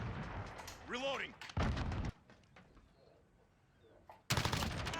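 Bursts of video game gunfire, loud and broadband, crack out in short blocks amid a gamer's quarantine morning session, with a voice briefly heard between shots and a final sharp volley at the end.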